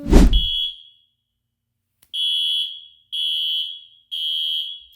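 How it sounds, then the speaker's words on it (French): A smoke alarm in a shared home, set off by cooking, shrills in three steady, piercing beeps, each about half a second long, after a brief rustle at the start. "L'alarme incendie."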